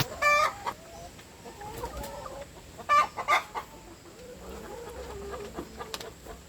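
Laying hens clucking while they feed, with bursts of close clucks and squawks over quieter scattered calls and faint pecking, intermittent and uneven.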